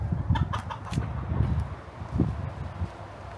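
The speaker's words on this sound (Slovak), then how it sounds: "Tuto máme sliepočky a kohútov." A flock of hens and roosters on a ranch clucking near the listener, with short overlapping clucks and squawks coming in irregular bursts over light rustling.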